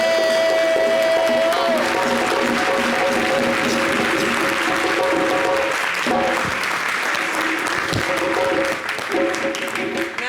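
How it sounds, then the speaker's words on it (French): A studio audience on a local summer TV show claps in tribute after a death is announced, a sustained, fairly loud wash of applause over a lingering tonal hum, easing slightly toward the end. "Une minute d'applaudissements."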